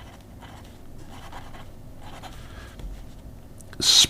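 Aurora 88P fountain pen with a hooded, springy fine nib writing on paper, soft scratchy strokes in short bursts, quiet and close, ending with a sharper brief scrape.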